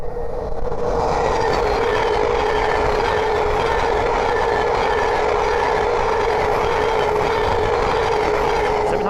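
A Thameslink Class 700 electric train passes on the East Coast Main Line at Great Wymondley, a loud, steady rushing roar with a sustained hum that stays constant from start to end.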